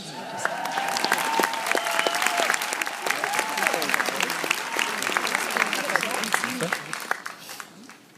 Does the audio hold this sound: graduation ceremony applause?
yes